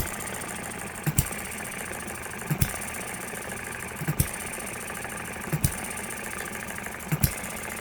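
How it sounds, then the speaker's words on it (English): A small Eachine ET6 model engine runs steadily, its fairly quiet, hissy drone punctuated by a sharp knock or pop roughly every one and a half seconds, with no talk over it. "oil it, and you will get a good running engine."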